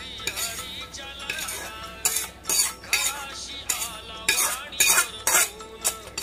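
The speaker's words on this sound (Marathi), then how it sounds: "तर इथे वरून मी हे ड्रायफ्रुट्स टाकत आहे." Roasted dry fruits go onto sheera in a kadai greased with ghee after the gas is switched off, making a close series of sharp metallic clinks and scrapes of a spoon against the pan in an irregular rhythm.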